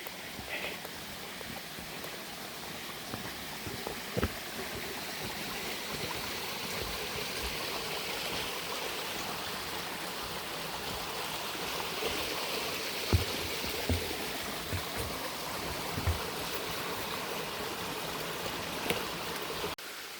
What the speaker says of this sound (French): Plus un ruisseau qu'une rivière.